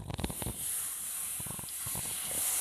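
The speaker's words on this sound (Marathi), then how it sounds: "दोन तीन चमचे दूध शिंपडायचं त्याच्यामुळे रवा आपला चांगला मऊ होतो" Milk sprinkled onto hot roasted semolina, a sharp burst of crackling spatter followed by a steady soft hiss with a few more brief crackles, close and without talk.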